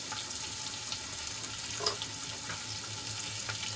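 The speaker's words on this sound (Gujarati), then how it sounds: "લસણ આપણું સંતળાઈને લાલ થઈ ગયું છે તો એમાં આપણે એક કાપેલું લીલો મરચું એડ કરીશું" Slit green chili sizzles in hot oil with garlic already sautéed red, giving a steady close crackle with a brief louder burst partway through.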